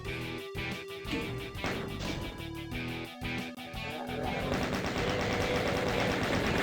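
Chaingunner enemies firing chainguns in the video game Doom, sounding as rapid, continuous bursts of gunfire layered densely over one another, loud and sustained throughout with a voice faintly audible underneath.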